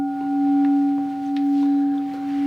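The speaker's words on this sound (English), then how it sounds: "Here's the sound of the bell." A mindfulness bell is rung once as a timekeeper, its steady pure ringing tone sustaining evenly and slowly pulsing across the whole moment, with nothing else around it.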